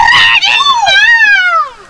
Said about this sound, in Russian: И вдруг слышат, мальчик с пальчиком заорет дурным голосом.